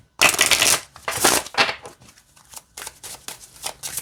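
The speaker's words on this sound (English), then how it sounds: "So I'll show you how it shuffles." An oracle card deck is shuffled by hand in several crisp, riffling bursts, loud and close at first and then in shorter, fainter flurries, with no talking.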